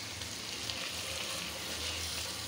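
Lauki shoots and foli fish frying in a pan, giving a steady, continuous sizzle at close range with a faint low hum beneath and no voices.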